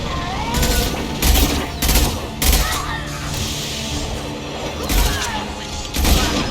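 Rapid bursts of rifle and automatic gunfire in the Mass Effect 2 video game, with repeated loud shots and booms over a busy combat soundscape, near and dense throughout.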